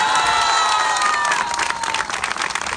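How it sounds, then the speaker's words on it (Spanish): Outdoor crowd at a Labor Day union march in Progreso claps and cheers, with high whistles and shouts riding over dense, fairly close applause. "El aplauso."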